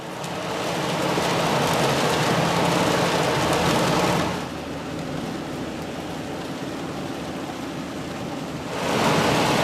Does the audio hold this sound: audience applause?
no